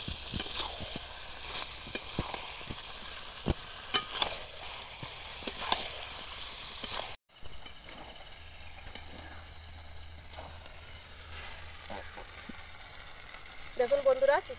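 Fried potatoes stirred into a simmering chicken curry make a low sizzle broken by scattered clicks of a spoon against the pan, with a brief pause midway and a soft hiss continuing afterward.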